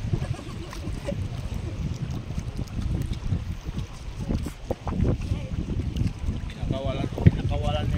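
Wind blows across open water on a small fishing boat, a constant rough, buffeting rush against the microphone with low rumbling gusts, while people talk over it.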